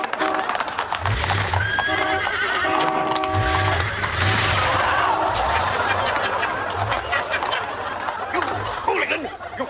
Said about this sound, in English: Don't frighten the horses!